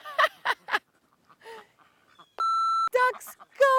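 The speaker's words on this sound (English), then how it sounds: "don't mind my ducks back there" Ducks quacking in short loud bursts, a few calls at the start and end, with a steady electronic beep in between.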